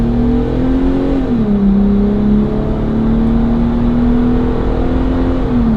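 A Jeep Gladiator JT with an MBRP single rear exit cat-back exhaust cruises on the highway, its engine droning loud and steady with a slight rise and dip in pitch, no voices over it.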